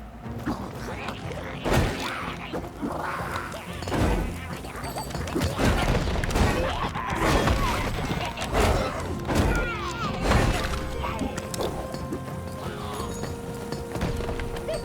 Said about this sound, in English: the bombs are not doing damage to the other goblins